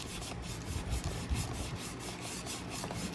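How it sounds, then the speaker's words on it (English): Sandpaper rubbed steadily across the plastic body of a model Mustang car, a continuous close scratchy rasp with slight rhythmic strokes and no talking. "I like to also bend the sandpaper so you get a nice transfer."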